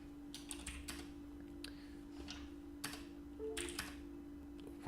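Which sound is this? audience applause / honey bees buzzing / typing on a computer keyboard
typing on a computer keyboard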